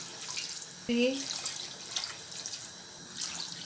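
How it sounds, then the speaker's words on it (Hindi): Water from a glass is poured into a pot of pulao rice and vegetables, a steady close splashing and trickle under a voice as she counts aloud. "अब मैं इसमें पानी ऐड करती हूँ।"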